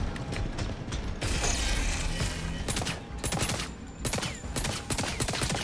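Gunfire and combat noise in the spy action game 007 First Light form a continuous, busy wash of rapid shots and mechanical clatter, with louder bursts and sharp cracks rising over a steady, loud background.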